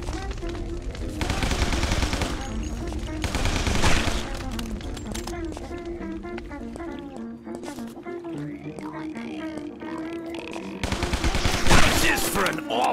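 Tommy gun fire in Guns, Gore & Cannoli, a gangster-era shooter: bursts of rapid automatic shots come in loud clusters, with game music and effects mixed in and gaps between volleys.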